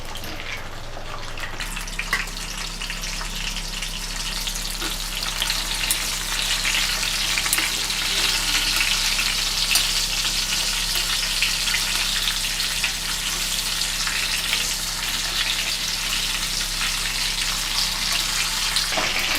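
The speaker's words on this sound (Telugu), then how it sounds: "అలాగే టమాటా కూడా కొంచెం లైట్గా ఫ్రై అవ్వాలి." Tomatoes fry in oil in a pan with a dense, steady sizzle that starts after a brief quieter moment and continues close and even throughout, with no talking.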